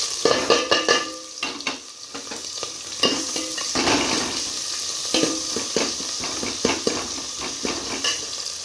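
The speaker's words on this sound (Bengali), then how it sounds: "তেলটা গরম হয়ে গেছে আমি কাটানো পেঁয়াজ রসুন লঙ্কা দিয়ে দেবো" Chopped onion, garlic and chilli fry in hot oil for a drumstick leaf dish, crackling and sizzling steadily close up, with frequent clattering stirs of a utensil against the pan.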